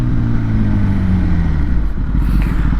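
A Kawasaki ZX-10RR superbike engine revving loud and close, a rough low rumble that sags in pitch and then settles into a throbbing idle-like pulse, with no talk over it.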